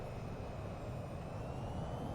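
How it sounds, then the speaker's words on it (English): Aircraft engine droning steadily while a plane taxis back to its parking spot in VTOL VR, a constant, even hum with no breaks or other sounds. "I'm gonna bring the plane back to its parking spot."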